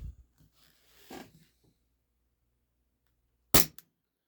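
An Umarex Glock 17 Gen 4 airsoft pistol with blowback fires 0.25 gram BBs: one sharp, close shot with a quick second snap, following a few seconds of quiet talk.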